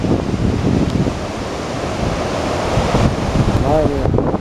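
Ocean waves crash steadily on the coast at Vila do Conde, Portugal, with surfers out in the water, a loud continuous roaring surf mixed with wind buffeting the microphone, and a brief voice near the end.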